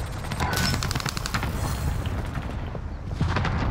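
Bursts of rapid automatic gunfire in Call of Duty Warzone, close and loud, with repeated sharp shots rattling in quick clusters and a brief lull before more firing.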